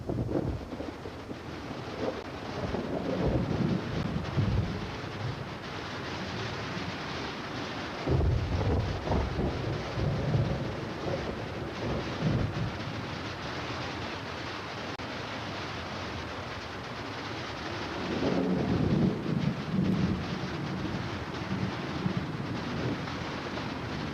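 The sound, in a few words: thunderstorm with rain over forest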